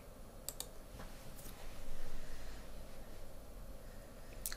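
Computer mouse clicks, a few sharp isolated taps spaced apart over a quiet room background with no talking, made while working in Pinnacle Studio 19 Ultimate video editing software.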